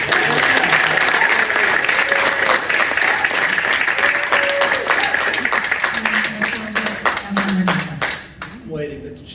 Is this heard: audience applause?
yes